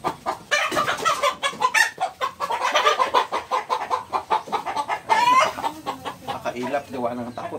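Native chickens cluck and chatter continuously at close range, with a steady stream of overlapping calls throughout.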